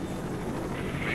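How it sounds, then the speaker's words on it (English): Military helicopters in the video game S.T.A.L.K.E.R. Shadow of Chernobyl give a steady, dense rotor-and-engine rumble, fairly close and continuous for a brief moment with no speech. "Oh, yeah. Helicopters."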